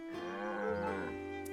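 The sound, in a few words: cow mooing, video game Echoes of Wisdom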